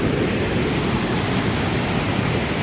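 Loud, steady rush of white water in a river in Washington State, a dense broadband roar filling the whole clip up close with no letup.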